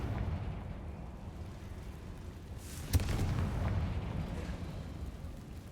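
Fire spell blasts in Hogwarts Legacy: a low rumbling roar carries a sudden sharp explosion near the middle, followed by crackling bursts and sustained booming, loud and close, with no voices.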